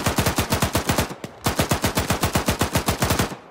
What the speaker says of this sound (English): Just going to give some suppressive fire.